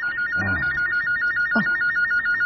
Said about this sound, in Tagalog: Ay, ang telepono sa sala.